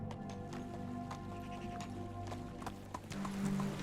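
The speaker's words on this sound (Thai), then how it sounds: "ผมทำการควบม้ามาจนถึงสุดปลายทาง" A horse gallops in the Medieval Dynasty video game, its hooves clip-clopping in a quick, steady rhythm over sustained in-game ambient tones.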